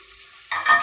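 Sliced onions drop into a hot pan and sizzle, a sudden burst of frying that swells briefly after a near-quiet start.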